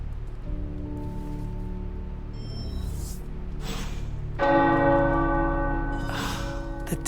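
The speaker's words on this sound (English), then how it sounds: "The tower bells are ringing." Chapel tower bells in the Marvel Midnight Suns video game ring out in a few clear, resonant strikes, with a louder peal about halfway through that hangs and decays, alone over a soft ambient background.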